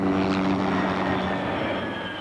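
Military observation helicopters hovering overhead during a combat exercise, a loud continuous rotor and engine roar with a dense broadband wash that stays steady throughout.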